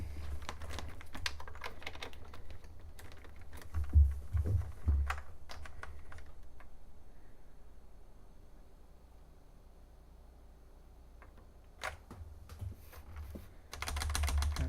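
An MSX2 computer keyboard clatters with dense bursts of key presses and held keys, loudest near the start and again at the end, with a quieter stretch in the middle and no talking.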